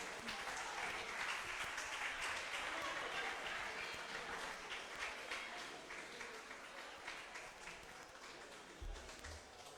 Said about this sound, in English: Oh, please keep clapping.